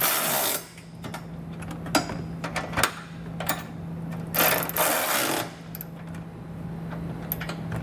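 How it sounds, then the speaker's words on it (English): A 19 mm socket ratchet tightens trailer hitch bolts on a 2013 Mazda CX-5, heard as bursts of quick ratcheting clicks separated by short pauses, close and moderately loud, with a faint steady hum underneath. "come back with a 19 millimeter socket and snug it all down"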